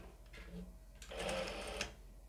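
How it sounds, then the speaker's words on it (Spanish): A sewing machine stitches a seam on a crop top, a close, steady mechanical whir lasting under a second and ending with a brief clunk, with quieter handling sounds around it. "Volvemos a pasar otra costura"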